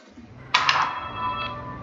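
A short electronic phone notification chime sounds once, bright and clear, over faint background noise during a game of ER:LC.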